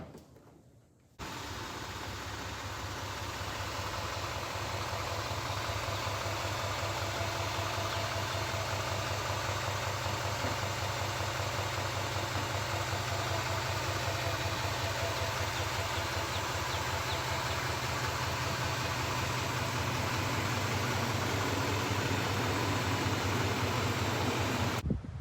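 Duramax 3500 dually pickup running on a test drive, a steady low diesel drone and hum that starts abruptly and holds even and moderately loud for the whole stretch, with no talking.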